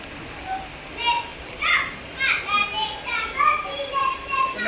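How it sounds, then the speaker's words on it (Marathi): Heavy rain in Pune makes a steady, even hiss throughout, with children's voices rising and falling faintly over it. "आज तर दिवसभर पाऊस चालू आहे"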